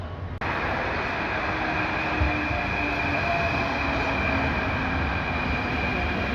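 An Athens metro train heads from the airport into town, heard from inside the car as a loud, steady rumble and rail roar with a faint whine and occasional squeal, and no talking.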